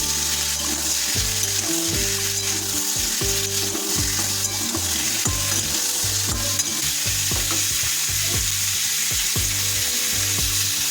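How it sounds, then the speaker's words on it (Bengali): Mixed vegetables with raw plantain fry in a pan on medium heat for a Bengali curry, a steady loud sizzle with repeated scraping strokes of a spatula stirring throughout. "এখন এটাকে আমরা মিনিট 3 ধরে একেবারে মিডিয়াম ধরে একটু কষিয়ে নেব।"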